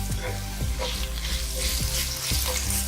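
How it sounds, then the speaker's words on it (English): Grated ginger and garlic sizzle and fry in a pan for methi matar malai, a steady broadband hiss with a few soft scraping stirs, close and fairly loud, no voices. "Roast the ginger nicely."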